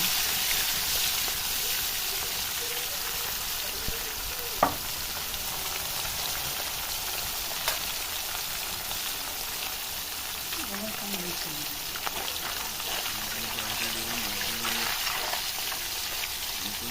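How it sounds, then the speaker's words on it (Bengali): Thinly sliced local fish fries in a pan for a Bengali-style fish curry with potatoes and beans. A soft, steady sizzle crackles continuously, rain-like and fairly quiet, with a few sharp pops and faint background voices. "মাছ ভাজতে একটু অসুবিধা হয়"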